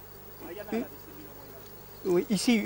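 Honey bees crowd over a brood comb, gorging on honey, with a faint steady buzzing hum. A person talks over it in short bursts.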